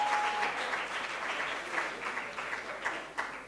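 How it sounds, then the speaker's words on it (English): An audience claps for a judge at a media expo event, a dense steady round of applause from many hands at moderate distance, holding through the moment with a few sharper claps near the end. "A first big hand clap for Judge Linda Kibombo."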